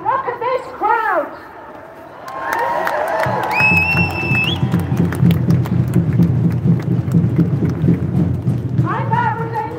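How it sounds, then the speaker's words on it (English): A large crowd at a mica and pyrite redress protest in Dublin cheers loudly and continuously, a sustained roar with whistles and shouts, with a voice speaking over the start and end. "Look at this crowd!"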